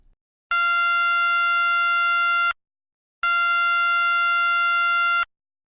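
An all-clear alarm signal at an industrial jetty site: two long, steady, harsh horn-like tones, each about two seconds, separated by a brief silence, loud and isolated.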